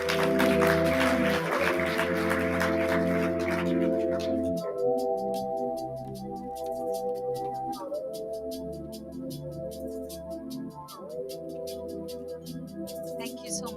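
Audience at a business and biodiversity forum applauds as a speaker walks on stage, a dense burst of clapping that fades within a few seconds, leaving steady tonal sounds.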